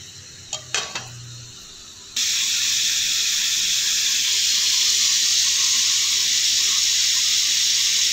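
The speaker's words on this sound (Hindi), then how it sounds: "यहाँ पे हम चिकन को इस गर्म ऑयल के अंदर डाल देंगे और इसको इसके अंदर हल्का सा फ्राई कर लेंगे" Chicken pieces dropped into hot oil for a restaurant-style chicken korma set off a loud, steady sizzle and hiss that holds evenly after a couple of clinks of placement.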